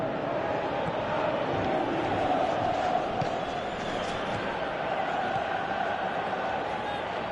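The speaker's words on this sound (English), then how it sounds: "Crowd appreciates good football all round there." Stadium crowd noise from a PES football match in the game, a steady broad murmur of spectators that holds through the whole stretch with talk over it.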